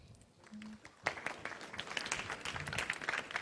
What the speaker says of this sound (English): Thank you very much for that operatic clapping.